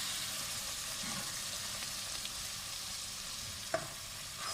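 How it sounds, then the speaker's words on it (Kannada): Ridge gourd fries in a pan with a soft, steady sizzle throughout, close by but quiet, with one light knock of a utensil near the end. "ಇದನ್ನು ಸ್ವಲ್ಪ ಗೋಲ್ಡನ್ ಕಲರ್ ಬರುತ್ತೆ, ಸ್ವಲ್ಪ ಮ್ಯಾಶ್ ಆಗುತ್ತೆ ಅಂತ ನಾನು ಫ್ರೈ ಮಾಡ್ಕೊಳ್ತೀನಿ."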